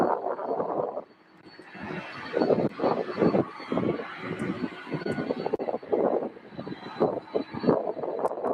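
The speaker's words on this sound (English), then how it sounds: "we got two UPS 747s taxiing out of ramp 11 currently as I speak." Two UPS Boeing 747 freighters taxiing out of a ramp at SDF airport, their jet engines giving a loud, fluctuating roar that swells and dips in uneven pulses nearby.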